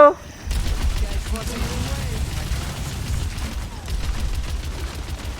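Rapid gunfire and bursts in an Overwatch 2 match form a dense, continuous rattle of shots with low booming thuds, loud and close, alongside game effects and some speech.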